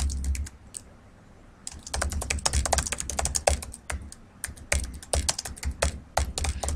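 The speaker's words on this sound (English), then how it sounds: "I'm just going to start typing." Rapid clicking keystrokes on a computer keyboard, close and crisp, in irregular bursts after a short pause.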